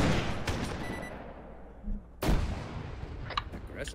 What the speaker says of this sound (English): Frag! Grenade! Grenade!